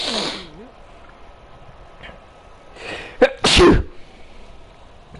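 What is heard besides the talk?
sneezing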